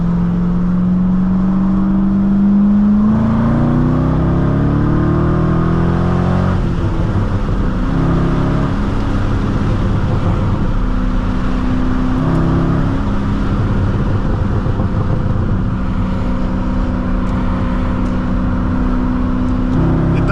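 A 2006 Chevrolet Corvette Convertible with a six-speed manual pulls hard under acceleration, a loud, steady engine drone rising in pitch, dipping at a shift, then climbing again, close up from inside the cabin.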